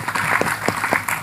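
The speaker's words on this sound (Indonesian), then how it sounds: "tepuk tangan dulu dong buat wong nahdlatul ulama" Audience applause at an Indonesian religious gathering, a dense steady patter of many hands clapping throughout, fairly loud and close with no talk over it.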